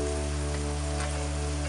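Garlic and onions fry in hot olive oil in a pan, giving a steady crackling sizzle under a constant low electrical hum, close and even for the whole stretch.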